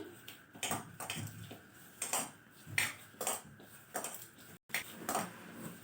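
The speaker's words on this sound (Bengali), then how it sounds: "তো সব কটি উপকরণ ভালোভাবে মিশিয়ে নেব।" Nimki dough ingredients with salt and sugar are mixed in a bowl, giving soft irregular scraping and tapping clinks of a utensil, quiet and close with brief pauses, no talk.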